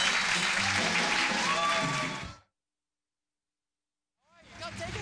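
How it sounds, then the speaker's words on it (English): Applause from a studio audience welcoming a guest, a former Dean of Students, on a university talk show. The dense clapping fades out around the midpoint, leaving silence before noise returns. "Let's get a warm welcome applause for Kathy Humphrey."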